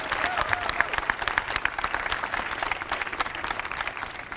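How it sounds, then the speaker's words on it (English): Audience at a school cricket trophy presentation applauding the stage party, a steady dense wash of clapping throughout, fairly loud and close, with a few faint voices mixed in. "Could we get a round of applause for our stage party"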